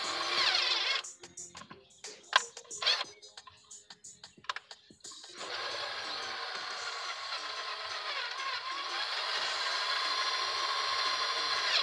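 A power drill bores out old threads in an H22 intake manifold, starting with short stop-start bursts and then settling into a steady, continuous whine of metal drilling.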